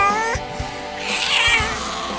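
A cat meows loudly and close up, a drawn-out wailing yowl set in an audio drama scene, with low thuds and rumbling underneath.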